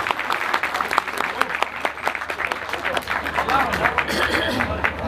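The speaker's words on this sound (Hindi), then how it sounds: "एक बार जोरदार ताली भाई साहब के सम्मान के लिए।" An audience at a Jain temple bhajan evening in Najafgarh claps loudly and continuously, a dense, lively applause with a few sharper individual claps and crowd murmur mixed in.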